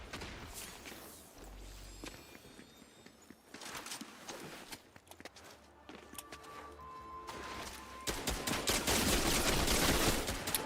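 Gunfire in Fortnite, scattered sharp shots and bursts mixed with footsteps and game effects, building to a louder, denser volley of rapid fire in the final seconds.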